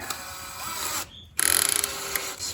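A power drill spins a tractor engine valve against its seat with lapping compound, a steady whirring drone with a brief pause, then resuming with a rapid ratcheting chatter, close and fairly loud.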